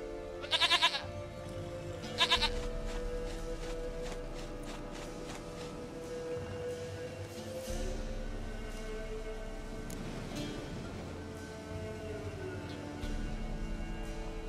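A goat in The Witcher 3 bleats in two quick wavering bursts near the start, then steady game ambience and soft music continue without further calls.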